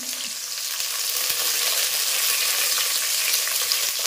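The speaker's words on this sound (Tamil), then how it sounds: "தாளிப்புக்கு கொஞ்சம் வெந்தயம், கொஞ்சம் சீரகம், சின்ன வெங்காயம் போட்டுக்கலாம்" Fenugreek, cumin and shallots tempering in hot oil for a fish curry, making a loud, steady, close sizzle that holds unbroken throughout, with a few faint knocks and no talking.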